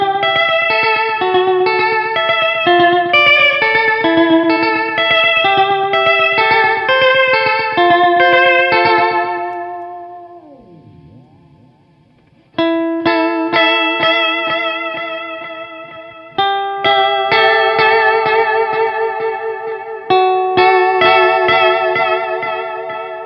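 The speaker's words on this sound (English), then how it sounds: "So I'm going to show you real quick now Echo Program 6, which is the vibrato setting from the Deluxe Memory Man." Belle Epoch Deluxe echo pedal on Echo Program 6, the vibrato setting, wobbling a clean instrument's sustained notes and chords with warped pitch. Busy playing gives way to a decaying swirl, then new chord stabs return and ring on.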